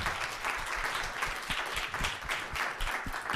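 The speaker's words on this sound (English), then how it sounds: "Can we give them a round of applause for..." Conference audience clapping for panelists, a fairly sparse applause with individual claps standing out, moderately distant and even throughout, no one speaking.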